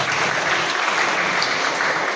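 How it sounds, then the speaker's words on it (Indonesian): A congregation at a church faith gathering claps in steady, dense applause, loud and sustained throughout with no clear speech over it. "Ini tepuk tangan menandakan Mbak Moi sudah dekat"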